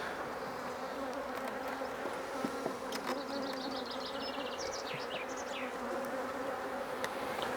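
Many honey bees buzz steadily around a hive, a dense, continuous droning hum with no voices.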